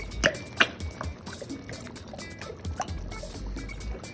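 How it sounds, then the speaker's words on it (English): Tomato sauce pours from a container into a pan of sardine spaghetti, a soft liquid glug and splatter with a few clinks at the start, near and moderately quiet. "you just add a little bit of tomato sauce"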